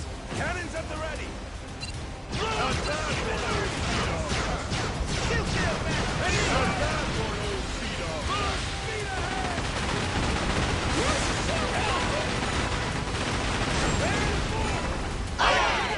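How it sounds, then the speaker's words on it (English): Dense, continuous barrage of ship cannon fire and crashing impacts in Like a Dragon: Pirate Yakuza in Hawaii, loud and chaotic throughout, briefly thinning near the start and end. "Cannons at the ready!"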